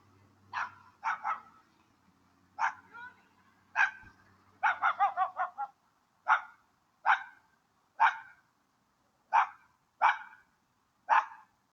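A dog barks repeatedly in sharp, evenly spaced bursts, including a quick run of several barks in a row, fairly close and clear against a quiet background.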